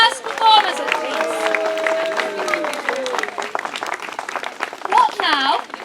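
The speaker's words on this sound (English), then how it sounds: "Can I have a round of applause for my first performers, please?" An outdoor Robin Hood festival audience applauds and cheers for the performers, with voices, including children, talking over the clapping.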